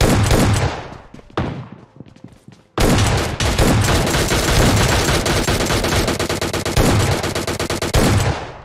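AKM rifle gunfire in PUBG Lite, loud, rapid automatic bursts that run almost continuously, with a brief pause early on before sustained firing resumes.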